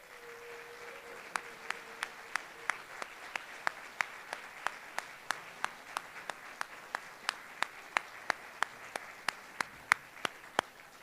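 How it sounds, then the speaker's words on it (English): At a Boston University Hall of Fame induction ceremony, the audience gives previously inducted Hall of Famers a sustained round of applause, a soft steady wash of clapping from a distant crowd with sharp nearby claps ringing out at a regular rhythm. "could I ask those previously inducted Hall of Famers to stand for a round of applause?"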